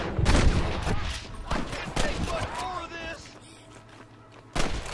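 Gunfire in the video game Red Dead Redemption: several loud, sharp shots fired in quick succession over game dialogue, then a pause and one more heavy shot near the end.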